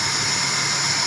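Honda Grand Civic engine idling steadily after a cracked carburetor mounting clamp was fixed, a continuous close-up engine hum with no talk.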